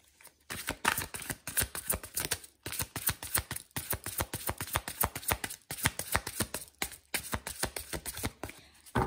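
Oracle cards are shuffled and laid out in a quick, steady run of crisp riffling flicks and slaps, close and alone, with a few brief pauses between bursts.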